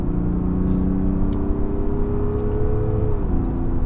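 A 2024 Mazda CX-60 Takumi with a 3.3-litre inline-six mild hybrid engine, driven in sport mode, producing a steady, loud, smooth engine drone with a slight pitch shift near the end.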